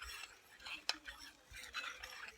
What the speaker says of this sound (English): and about 1/2 cup of flour to the milk, and stir that up